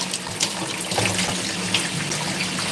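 Tap water runs steadily from a faucet over produce being rinsed for juicing, a continuous hissing splash that holds at an even level throughout with no voices.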